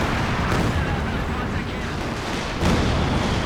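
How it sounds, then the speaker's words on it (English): A Soviet mortar firing during a Company of Heroes 2 match, heavy booming thuds within a dense, constant battle din of explosions and gunfire, with a sharper report near the end. "There goes the Soviet mortar."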